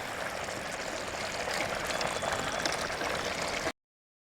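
Village chicken simmering in its own released juices in a pan with onions over a low flame, a close, steady bubbling and sizzling that runs on without talk before cutting off abruptly.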